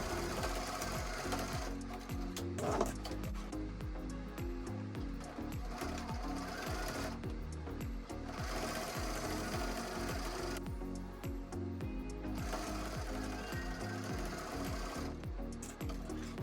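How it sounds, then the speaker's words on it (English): A sewing machine stitches canvas tote bag side seams made from a thrift store tee, a close steady rhythmic chatter of the needle running continuously with brief dips in between, and no voices. "I'm going to use about a 1/2 inch seam allowance to sew the canvas on each side"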